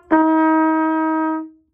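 Trumpet holding a single sustained F, three tied notes blended into one long unbroken tone with a clean attack and a gradual fade at the end, played alone.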